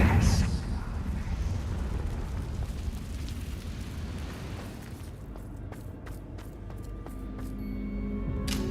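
A Confringo fire spell detonates in the video game Hogwarts Legacy, setting off a loud, deep booming blast whose rumble holds for several seconds before thinning into scattered crackles and pops.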